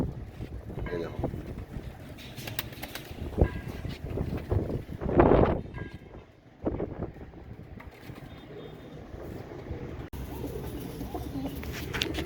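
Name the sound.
Kasni pigeons cooing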